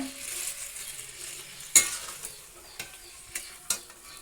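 Mutton curry being stirred in a pan as it fries, a soft low sizzle with a few sharp scrapes and clinks of the spoon against the metal spaced through the stretch.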